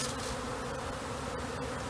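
A honeybee swarm buzzes steadily and densely throughout, a close, continuous drone from many bees being gathered with a bee vacuum.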